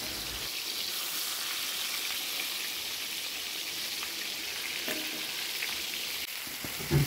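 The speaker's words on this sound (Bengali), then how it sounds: "আর এখন আমি মাছটা ভেজে নেব।" Spice-coated fish frying in hot oil gives a continuous, even hiss that stays fairly soft and close, with a few brief louder crackles near the end.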